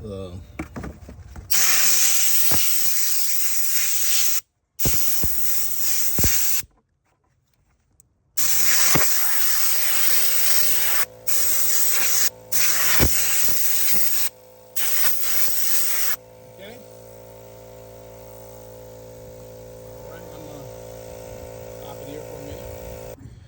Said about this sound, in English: let me go get the air nozzle and blow this out